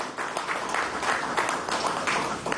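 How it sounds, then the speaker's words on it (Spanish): Audience at a presidential event marking the start of the 2020 productive year breaking into applause, a dense, even roar of many hands clapping, loud and continuous with no speech over it. "Y les doy mi aplauso."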